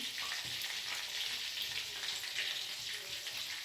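Fish sizzles in a pan of oil with water added, a steady, hissing crackle of frying that stays even and close throughout.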